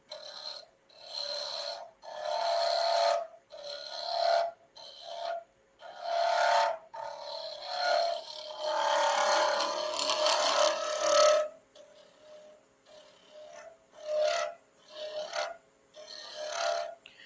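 A carbide tool cuts a banksia pod hybrid pen blank spinning on a wood lathe, giving rough rasping bursts that start and stop repeatedly, with a steadier stretch of scraping partway through.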